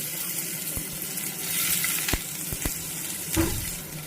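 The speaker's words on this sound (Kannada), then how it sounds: "ಒಂದು ಪ್ಯಾನ್ ಇಟ್ಕೊಂಡ್ಬಿಟ್ಟು ಅದಕ್ಕೆ 1 ಸ್ಪೂನ್ ಆಯಿಲ್ ಹಾಕ್ಕೊಂಡು ಸ್ವಲ್ಪ ಮಸಾಲೆಗಳನ್ನ ಹಸಿ ವಾಸನೆ ಹೋಗುವಷ್ಟು ಫ್ರೈ ಮಾಡ್ಕೊಬೇಕಾಗತ್ತೆ" Spices frying in a spoonful of oil in a pan give a soft, steady sizzle, broken by a few sharp spoon taps and a brief louder stir.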